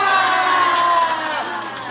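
Elderly participants at a laughter-therapy session for seniors living alone let out a drawn-out admiring "wow" together, a loud chorus of voices with little distinct clapping.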